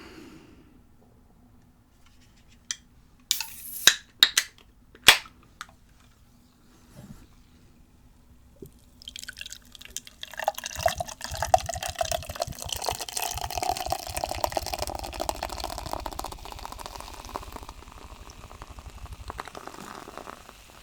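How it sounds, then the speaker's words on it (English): Fizzy drink poured into a glass, picked up by a GameCube microphone: a few sharp clinks and taps early on, then a steady close pour with soft fizzing and bubbling that fades away near the end. "Admittedly, that is not a super strong fizzy sound, but you still get the pouring."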